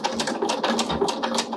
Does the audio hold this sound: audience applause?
no